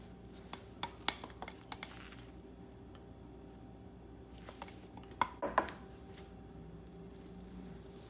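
Gel stain mixed in a container for kitchen cabinets, heard as faint, scattered taps and clicks of a stirring tool against the can, quiet and close, with a brief louder scraping burst later on.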